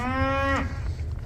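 A single drawn-out moo from a cow in a barn sounds close and loud, holding steady and then sliding down in pitch before fading into low barn background noise.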